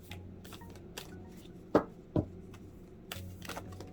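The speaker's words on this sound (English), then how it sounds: "And then I'm going to really shuffle these cards a bit" Tarot cards being shuffled by hand, soft papery riffles and slides up close with a couple of sharper taps of the deck in the middle.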